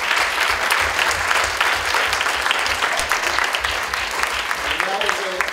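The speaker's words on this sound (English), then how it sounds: "And that is a tepid applause." Audience at a gathering honoring Professor Felix Massoud gives a round of tepid, evenly sustained clapping at moderate loudness, with a low rumble beneath it and no clear voices.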